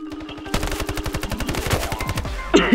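Rapid automatic gunfire in the mobile shooter Standoff 2, a long burst of evenly spaced, close, punchy shots with a brief noisy clatter at the end and no talking.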